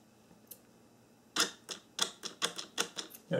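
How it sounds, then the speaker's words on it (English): A 1994-1997 Honda Accord door lock actuator, repaired and run on the bench, gives a faint early tick, then a quick series of sharp, close mechanical clicks and clacks in an irregular rhythm. "I'm going to bench test the actuator to show you that it's fixed."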